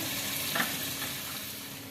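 Chicken spice paste with onion and a splash of water frying in a pan, a dense steady sizzle with a soft stir scrape partway through, close and continuous.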